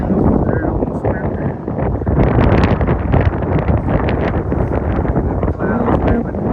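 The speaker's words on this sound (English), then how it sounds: "It's windy, as you can probably tell." Strong wind blowing across an exposed mountain ridge between Rock Gap and Stecoah Gap, a continuous rough roar with gusts that batter the microphone, loud and close throughout.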